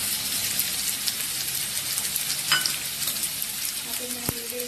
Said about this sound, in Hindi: मैं इसे डीप ब्राउन होने तक फ्राई करूँगी